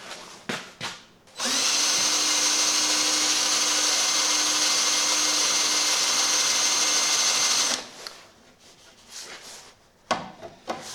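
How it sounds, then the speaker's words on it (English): A power drill bores into the bumper of a 1988 Ford Ranger, one sustained, steady whine of about six seconds with short handling noises before and after. "Let's start drilling."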